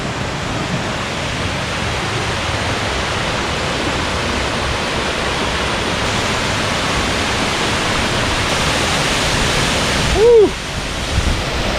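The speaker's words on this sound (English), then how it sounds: "we made it to the waterfall" A steady, loud rush of a Montana waterfall roars continuously, broad and unbroken, with a brief higher tone near the end.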